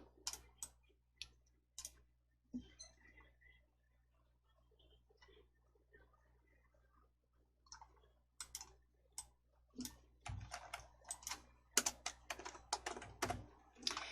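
Computer keyboard typing in quick bursts of clicks, ending with a louder flurry of keystrokes including an enter press, close and fairly faint, with no talk.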